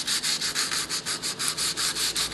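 Sandpaper of 180 grit rubbed gently over a wood-effect laminate worktop, close and steady, with rhythmic back-and-forth strokes about five per second and no voices.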